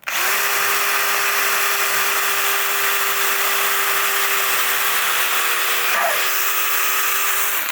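A power drill with a 3mm bit whines steadily at high speed for several seconds, close and loud, with a brief shift in pitch near the end.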